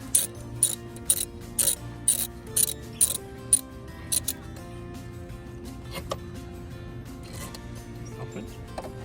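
A ratchet turns a bolt counterclockwise while a spark plug is changed on a 2017–18 Honda CR-V: a series of crisp, close clicking bursts in an uneven rhythm, then quieter mechanical fiddling, with no talking.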